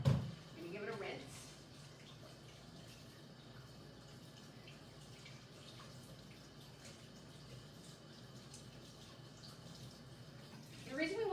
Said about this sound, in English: I'm gonna give it a rinse.